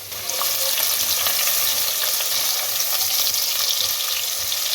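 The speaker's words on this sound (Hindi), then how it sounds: "इसके अंदर 1 मीडियम प्याज जिसकी मैंने स्लाइस में कटिंग की है को डाल दें" Sliced onion sizzles steadily in hot oil with spices, a close, continuous frying hiss with faint stirring scrapes and no talk.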